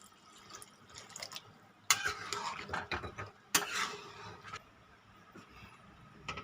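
A spoon stirs chana dal in a pot with quiet scraping and clinking, broken by two sharper clattering bursts of metal against the pot and faint watery sounds.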